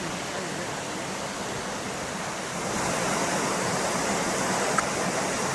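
The Rajur Ghat waterfall in Buldhana pours in the rain with a steady, dense roar of falling water that swells slightly louder partway through and continues without a break.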